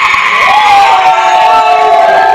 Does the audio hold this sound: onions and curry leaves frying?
no